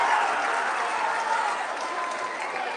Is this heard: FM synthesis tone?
no